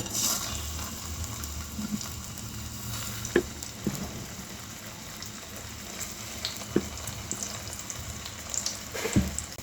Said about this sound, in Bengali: তেলটা গরম হয়ে আসলে দিয়ে দেব বেগুন